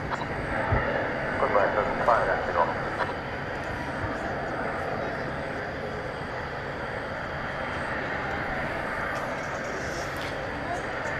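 A Turkish Airlines heavy jet departs DFW Airport, its broad engine roar held steady and fairly distant throughout, with a person talking briefly near the start.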